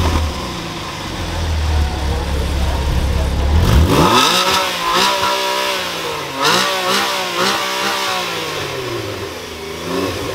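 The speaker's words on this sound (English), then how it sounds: "let's get it and let's hear this thing roar" A gasoline Porsche Carrera engine starts with a churning low rumble, then revs up into loud, rising roars that sweep up and down in repeated blips before settling toward idle.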